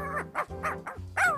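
A cartoon puppy gives a quick series of about five high, yappy barks and yips, near and fairly loud, with no talk.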